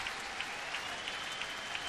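A ballpark crowd applauds and cheers during a baseball game, a faint, distant wash of clapping that stays steady from start to finish.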